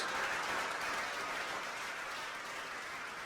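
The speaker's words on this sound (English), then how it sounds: "Give him a round of applause." Steady, broad audience applause at a campaign launch rally, a continuous wash of clapping from a crowd, moderately distant and fairly even throughout, with no talking over it.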